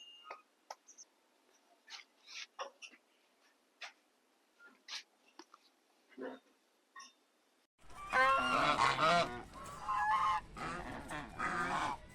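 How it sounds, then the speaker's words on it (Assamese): Ducks splash and bathe with loud, busy quacking and honking calls that start partway through, after a stretch of scattered faint bird chirps and small sounds. "চাওক হাঁহখিনি একদম কি ধুনীয়াকৈ গা পা ধুই কৰি উঠিছে"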